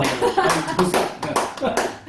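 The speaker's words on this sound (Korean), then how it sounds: "그러니까 박수 한번 해주고." A church congregation at a Wednesday Bible study claps in short uneven bursts while people talk over it.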